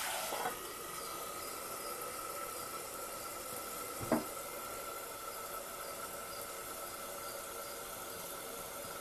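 Broad beans fry in a covered pan on a stove, giving a steady soft sizzle and hiss with a faint background hum. A single brief clink sounds midway. No one speaks.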